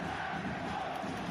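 Columbus fans booing at the MLS Cup final soccer match against LAFC: a continuous low crowd roar that stays steady and fairly faint under the general stadium din.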